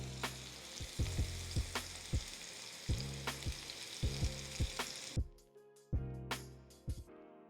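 Steak bites sear in a hot pan at high heat, a loud continuous sizzle broken by repeated sharp clanks and scrapes of a utensil against the pan, with no talking.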